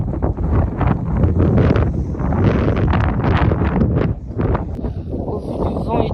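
Strong wind gusts buffet the microphone on a ski slope at Val Thorens, a loud rough roar rising and falling with speech mixed into the blustery noise.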